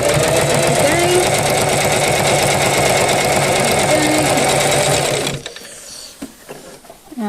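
Sewing machine with an open toe foot top-stitching along a fabric edge, a loud steady mechanical whir that runs for about five seconds and then stops, leaving faint handling noise.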